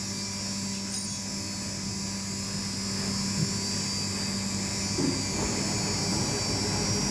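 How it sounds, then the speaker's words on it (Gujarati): A milking machine runs on a Banni buffalo dairy farm in Gujarat, producing a steady, unbroken mechanical hum and whine at moderate loudness, with faint background clatter and no talking. "મિત્રો ભેંસોની મિલ્કિંગ ખાસ કરીને પહેલાં મશીન દ્વારા કરવામાં આવે છે"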